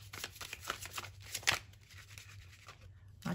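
Tarot cards are shuffled in quick, papery riffling bursts, close up, a few uneven rounds with short pauses between them.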